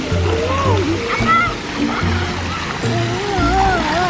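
A small child splashing about while swimming, water sloshing continuously up close with children's voices and talk over it.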